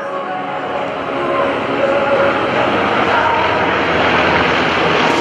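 Trojan propeller aircraft of an aerobatic display team roar overhead in a loud, steady drone that swells slightly and holds, broad engine noise throughout with no clear speech.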